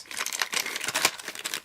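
A plastic bag that holds a metallic ink pad and sponge crinkles and rustles as it is handled, with a dense run of close, crisp crackles lasting under two seconds and no voices.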